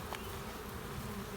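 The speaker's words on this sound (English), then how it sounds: "the bees that fly out of there, they are the older field bees" Honey bees buzzing as older field bees fly out of a hive during Varroa mite sampling, a steady, dense droning hum filling the air without pause.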